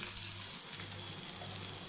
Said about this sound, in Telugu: ఆయిల్ వేడైన తర్వాత తాలింపు గింజలు వేగిన తర్వాత ఎండుమిర్చి ఈ పోపును ఈ పచ్చడిలో వేసుకొని